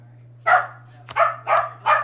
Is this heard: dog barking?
yes